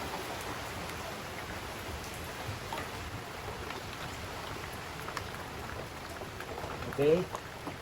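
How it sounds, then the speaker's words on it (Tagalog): Steady heavy rain pattering on a surface, a dense continuous wash of drops with a faint voice briefly underneath. "lumalakas na ang ulan."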